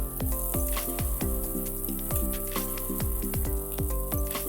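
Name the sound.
prawns frying in hot oil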